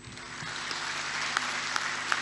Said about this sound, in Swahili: Naomba tumshangilie kwa makofi mengi tafadhali.